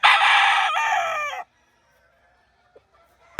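A Roundhead gamecock crows loudly and close by, one long strained call that cuts off abruptly, followed by near silence.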